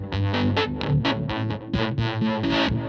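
Distorted, heavily effected electric guitar plays choppy, percussive chords and notes in a quick rhythm, thick and buzzy with modulated shimmer.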